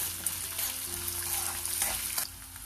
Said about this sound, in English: To this we'll add green chilies and garlic and fry these also along with this